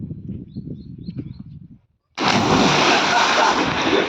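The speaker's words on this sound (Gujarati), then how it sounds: "હાલો હમણાં ધુબાકો મારવો" A person dives into water during a swim: low outdoor chatter with faint birds, then a brief silence before a sudden loud broadband rush of water and churning that continues to the end.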